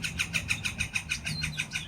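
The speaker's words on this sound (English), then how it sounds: "I'm gonna let this bird finish." An outdoor bird sings a rapid, evenly repeated phrase, about six notes a second, loud and close, over a low steady hum.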